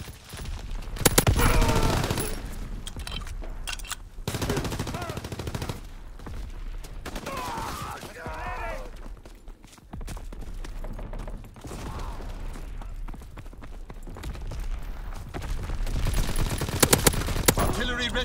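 Explosive mortar strikes and gunfire in Call of Duty: WWII multiplayer, loud repeated blasts and rattling bursts throughout, with brief radio-style voice chatter mixed in.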